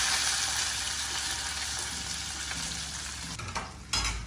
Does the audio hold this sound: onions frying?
yes